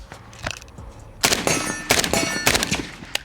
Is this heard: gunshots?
yes